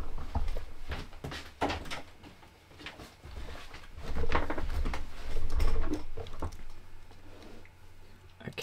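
A door is opened indoors to let a cat in: a run of handling clunks, a latch and soft shuffling thuds, moderately close, with no talking.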